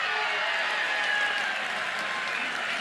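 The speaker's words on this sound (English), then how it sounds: "They roared as loudly for that as they did the run coming across." Spectators at a college softball game between Oklahoma and Alabama applaud and roar for a foul ball caught down the left field line. The clapping and cheering form a dense, loud wash that holds steady for a few seconds.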